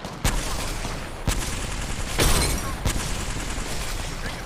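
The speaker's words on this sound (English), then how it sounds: "Opening fire on the enemy." Gunfire from an Apex Legends match: a few sharp, loud shots spaced about a second apart over a dense, busy game background, with one longer burst in the middle.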